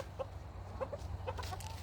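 Backyard chickens in a coop give soft, scattered clucks and short murmuring calls over a low steady hum, fairly faint and close by.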